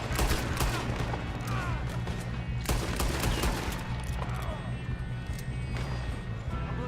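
Gunfire during a train robbery in Red Dead Redemption 2 breaks out in repeated sharp shots, some in quick bursts, over rumbling background noise and clopping horses, while a voice talks under the shooting.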